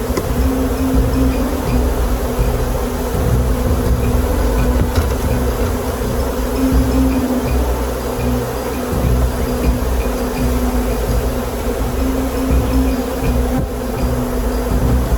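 A dense, steady buzzing of a honeybee swarm entering a hive fills the whole stretch, a loud continuous drone with no talking.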